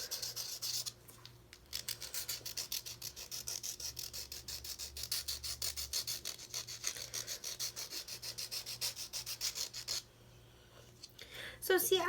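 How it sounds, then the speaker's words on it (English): A coarse, gritty nail file rasps steadily back and forth across fingernails being shaped over baking-soda nails, a close, continuous rubbing that runs almost the whole time before briefly pausing near the end. "So see, as you're filing"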